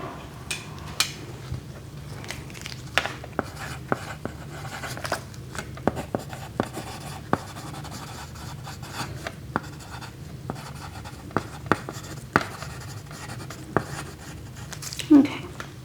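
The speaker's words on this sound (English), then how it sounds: "I'm just gonna go ahead and write that down." Steady scratchy scribbling of a pen on paper, with small taps and pauses, close by and fairly quiet, with a few soft clicks near the end.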